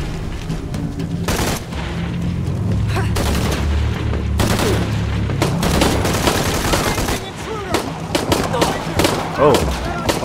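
Gunfire in Shadow of the Tomb Raider rattles out in repeated loud bursts and single shots, dense and close, with scattered booms and a voice briefly heard among the shooting.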